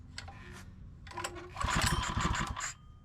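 A small engine with the choke on is pull-started: a couple of short rattling pulls, then a louder sputtering burst as it briefly fires, close by.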